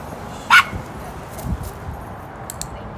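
One short, sharp dog bark rings out nearby at a passing person, followed by quieter whimpering sounds over low background noise.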